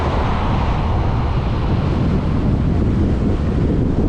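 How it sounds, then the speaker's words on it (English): Strong wind buffets the microphone in a constant low roar on a seaside road in Pattaya, Thailand, with no voices. "Whoa, windy."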